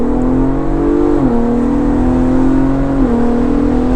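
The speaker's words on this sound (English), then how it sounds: "we're gonna brake torque. Ready, 1, 2, 3, go. Ooh, we spun them." A 2023 Ford Bronco Raptor, heard from inside, launches hard with the wheels spinning. The engine drones loud and steady, rising in pitch with two clear shift dips along the way.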